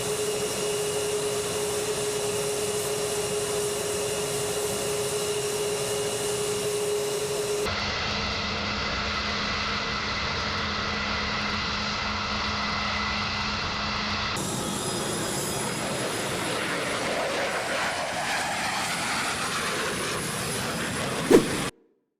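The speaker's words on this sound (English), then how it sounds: "At the runway, engine thrust rises, the aircraft accelerates, and the Raptor lifts away before climbing and maneuvering overhead." F-22 Raptor fighter jet engines at high thrust during a runway takeoff, a loud sustained broadband roar and whine that continues without pause, changing character in distinct sections before cutting off abruptly.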